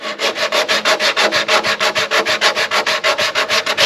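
A radiused piece of Airex foam is rubbed back and forth over a fiberglass repair to shape and contour it, a fast, even rhythm of about six gritty strokes per second, close and loud, with no talk.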